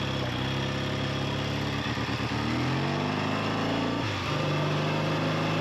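Triumph T90 motorcycle engine revving up and settling, a loud close-up throaty drone with rising and falling pitch sweeps and a sharp blip near the end, running alone without talk.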